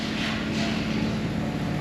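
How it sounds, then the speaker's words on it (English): Tree trimming equipment runs nearby as a steady low engine drone with a rough, pulsing throb, continuous and moderately loud throughout without talk. "Excuse the noise. They're trimming trees over there"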